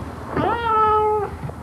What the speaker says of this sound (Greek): τελικά αυτός είναι ο γάτος